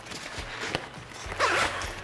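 A Camelbak hydration backpack zipper pulled open in short rasping bursts, close by, with a longer zip near the end and light handling rustle around it.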